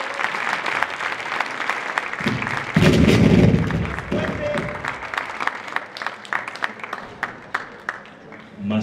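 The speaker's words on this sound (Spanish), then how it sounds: "Así que un aplauso muy fuerte para Tony Bianco" Audience applause at a jai alai venue in Huesca, a crowd clapping loudly with a burst of cheering and thumps early on, then thinning into scattered, rhythmic claps that fade toward the end.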